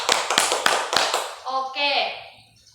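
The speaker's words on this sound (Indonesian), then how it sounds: "Tepuk tangan dulu untuk kita semua." Schoolchildren in a primary school classroom clap their hands in a few sharp, loud bursts, followed by a voice and faint chatter as the clapping fades.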